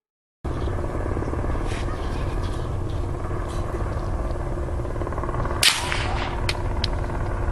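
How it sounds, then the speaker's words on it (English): A helicopter circles overhead near a campsite, a steady distant rotor rumble that runs through the whole stretch, with a sharp brief crack near the end. "the distinct sound of a helicopter circling can be heard"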